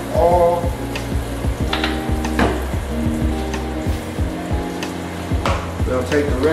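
Oil and meat for Philly cheesesteak sliders sizzle on a hot stovetop griddle, a steady close crackle broken by repeated scraping and clacking of a spatula.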